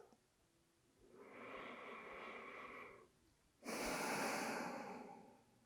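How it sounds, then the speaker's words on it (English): Deep breathing during a gentle heart-strengthening exercise: a slow inhale lasting about two seconds, a brief pause, then a louder, airy exhale, close and clear with no talking. "And breathe."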